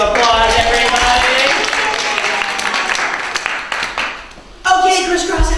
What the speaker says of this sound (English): Can we give Malcolm a nice round of applause, everybody?